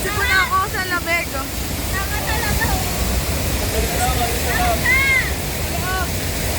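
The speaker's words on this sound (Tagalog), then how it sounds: "Mga falls. Mini falls." A small waterfall at a natural spring resort gives off a constant broadband rush of falling water, steady and fairly loud, while people talk over it throughout.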